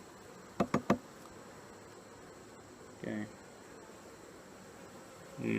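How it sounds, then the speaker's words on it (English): Honeybees buzzing at an open Queen Catherine hive in late August, a steady hum broken by a few short, louder buzzing bursts as bees pass near, with a brief spoken word. "Some bees hanging out"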